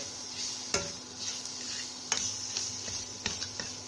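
Spices with chili powder being stirred and fried with tomato in a pan, a soft steady sizzle under scattered sharp clinks of a spoon against the pan, nearby and moderately loud.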